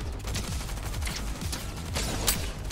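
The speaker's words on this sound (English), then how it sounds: "the drum gun is just so much better to use" Rapid bursts of automatic fire from a drum gun in the Fortnite video game, a dense rattling volley running nearly continuously over a low rumble, with no one speaking.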